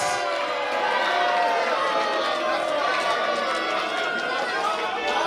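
A wrestling crowd cheers and chatters steadily for champion Channing Thomas during ring introductions, a loud, dense wall of voices filling the arena without a break.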